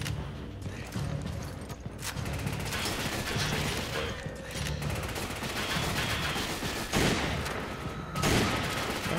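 Gunshots from Resident Evil 5 crack out in irregular bursts amid clattering mechanical game effects, loud and close throughout, with a few sharper blasts toward the end.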